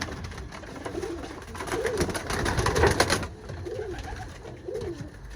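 Pigeons coo in soft, repeated low phrases, several calls spaced a second or so apart over a steady background hum.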